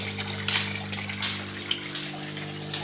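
Water splashes and gushes steadily while plants are being watered, with a constant low pump-like hum underneath and a few louder splashes, heard fairly close.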